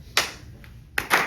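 A studio audience gives a slow clap on a talk show stage: two separate, sharp, loud claps spaced almost a second apart, the second slightly doubled, with no talk.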